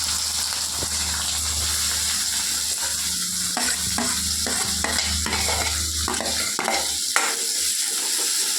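Onions and green chilies fry in a pan for egg keema, a constant close sizzle broken by rhythmic spatula stirs and scrapes against the metal.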